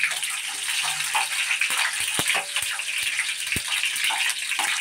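Garlic cloves fry in hot mustard oil for an onion garlic chutney, a dense steady hiss and bubbling crackle with a few sharp clicks and knocks, close and without talk.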